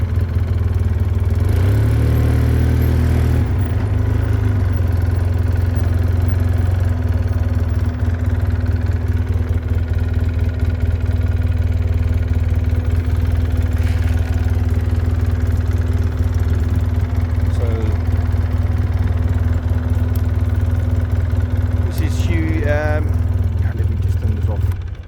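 A quad bike engine runs steadily and close, a loud continuous drone that holds nearly unchanged as the vehicle creeps forward on a farm near an ostrich nest, with a few brief faint sounds over it.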